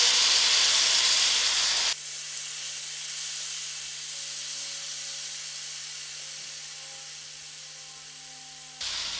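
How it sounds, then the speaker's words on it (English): Dubla beans dropped into hot masala sizzle and steam in a steady, close hiss that holds for several seconds alone before cutting off abruptly. "Just stay in my masala for a few seconds. I'm putting my dubla to cook."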